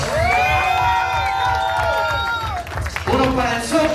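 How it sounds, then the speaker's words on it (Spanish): Loud crowd applause and cheering at a rap battle final, a dense roar of clapping, shouts and whoops with a rhythmic low beat underneath and voices rising over it. "Dame un aplauso para el Tavo Morales."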